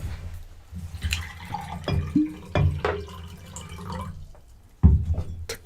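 Water poured into a glass to cleanse the palate between drinks, close splashing and dripping in uneven bursts, with a heavier slosh near the end.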